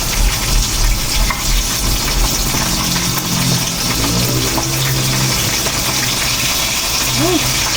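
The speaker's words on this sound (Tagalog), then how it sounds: "talangsit yung mantika" Cooking oil sizzling as eggplant fries in a pan, a steady, loud, close hiss with gurgling bubbles running throughout and faint voice-like tones underneath.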